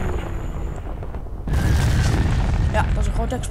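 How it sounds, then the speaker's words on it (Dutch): A loud, deep boom from a missile explosion in Garry's Mod bursts in halfway through, followed by sustained rumbling and crackling debris over a busy background. "Ja, dat is een grote explosie."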